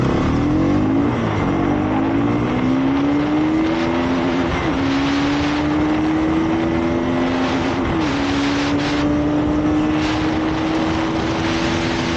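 A 2024 BS6 Bajaj Pulsar NS200 motorcycle accelerates hard during a top speed test, its engine note climbing steadily through several gear shifts, loud and continuous over heavy wind noise.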